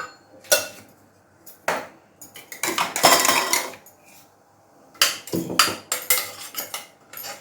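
A spoon stirs spice paste in a metal cooking pot for rajma, loud clattering scrapes and knocks in irregular bursts separated by short quiet gaps.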